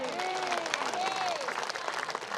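A church congregation at a prayer gathering claps together in a brief, dense burst of applause, steady and close, with a voice sounding over it.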